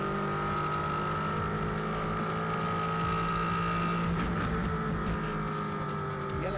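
LMP3 race cars thunder around Spa-Francorchamps, a loud continuous engine roar with layered whining tones as several cars run close together through the turn, no talking over it.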